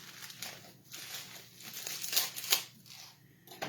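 A sleeve of Ritz crackers is crushed in its wrapper, giving soft crinkling and crunching in irregular bursts, close and fairly quiet.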